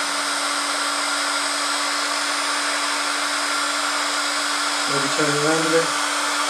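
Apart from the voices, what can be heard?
heat gun shrinking heat-shrink tubing over a joint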